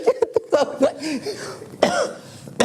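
A person coughs in a rapid cluster of short, harsh bursts close to the microphone, with a few more coughs and throat sounds following, indoors.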